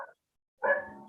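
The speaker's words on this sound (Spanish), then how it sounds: "Disculpen a mi perrita ladrando." A small female dog barks, one short yip followed after a pause by a louder, fuller bark, close by and alone.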